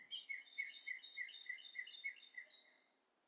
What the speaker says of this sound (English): I just heard a sound of a bird chirping.